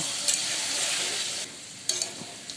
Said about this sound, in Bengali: সমস্ত কিছু নেড়ে চেড়ে আলুগুলো একটু লাল করে ভেজে নেব